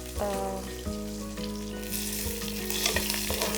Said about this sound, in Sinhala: පේනවා ඇති හොඳට අපේ සුදු ලූණු ටික, එතකොට කරපිංචා ටික බැදෙනවා